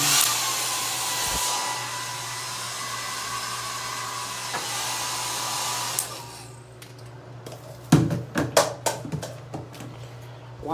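A wall-mounted Conair hair dryer in a Holiday Inn Express hotel room runs on medium with a steady, loud whooshing hum for about six seconds, then cuts off, followed by clattering handling noises.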